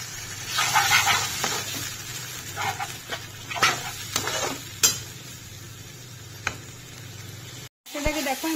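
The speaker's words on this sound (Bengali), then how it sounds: "মশলাটাকে ভালো করে ভেজে নেব।" Spice masala frying and being stirred in a pan for a Bengali niramish aloo-potol curry, a steady sizzle with repeated scraping stir strokes, close and fairly loud, with brief clatter near the end.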